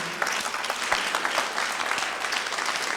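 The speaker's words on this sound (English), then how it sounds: "Another round of applause, right?" A church audience gives a round of applause after a song, a steady crackle of many hands clapping at moderate volume with no one talking over it.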